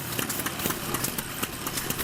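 A Samson 50 horsepower engine, shown as pioneer mining power, runs steadily with a mid-pitched mechanical drone and faint rhythmic ticks, fairly close and continuous, with no voices.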